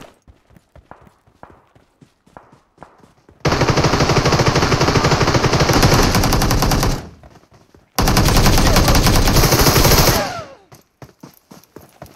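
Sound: gunfire from both sides in video game PUBG Mobile

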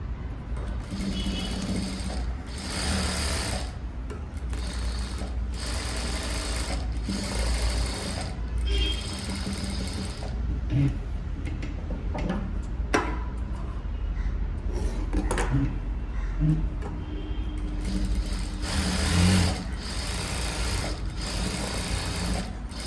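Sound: sewing machine stitching a blouse hem

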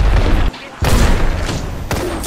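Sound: airstrike explosions in the video game Apex Legends

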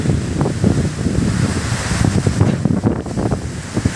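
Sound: strong typhoon wind

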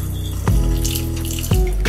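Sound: pouring water out of a flower vase

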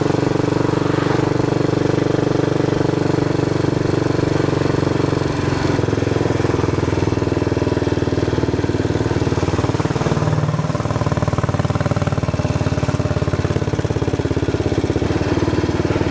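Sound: Royal Enfield motorcycle engine revving

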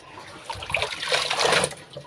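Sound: clothes being put into water for rinsing

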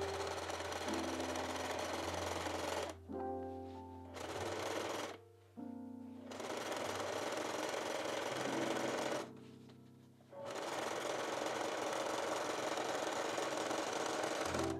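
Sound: sewing machine sewing a makeup bag seam

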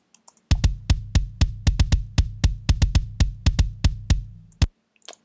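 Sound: metal kick drum sample without EQ

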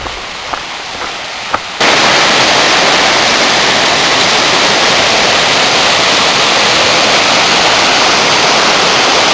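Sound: Si Sangwan waterfall in Pha Daeng National Park

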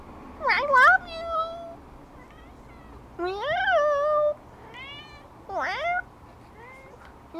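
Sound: kitten meowing

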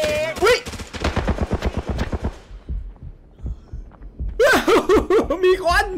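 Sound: gunfire in the video game Arena Breakout

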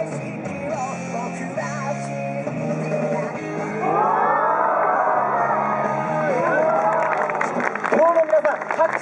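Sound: street show audience clapping

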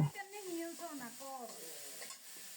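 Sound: spice paste being sautéed over low heat

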